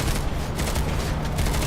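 Dense, continuous gunfire from the online shooter game PlanetSide 2, with overlapping rapid shots forming a loud, unbroken fusillade throughout.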